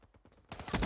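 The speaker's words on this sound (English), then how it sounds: "Was that a shotgun?" Shotgun fire in a video game: a burst of sharp, loud blasts after a few softer thuds, short and dense.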